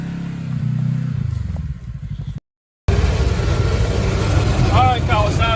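A Kawasaki KRX side-by-side rolls down a hill out of gear, with a loud, close, rushing engine and wind roar that cuts out briefly and then returns under faint voices.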